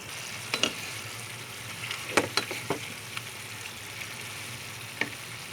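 Chicken adobo is stirred in a pan, with a soft background sizzle broken by scattered scraping and tapping clicks of a utensil, fairly quiet and close.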